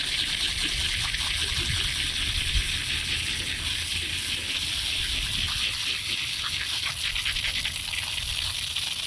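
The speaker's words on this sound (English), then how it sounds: "So I like to give it a real good wash here" A garden hose rinses the root ball of a pepper plant being prepared for overwintering, a steady close splashing gush of water running continuously throughout.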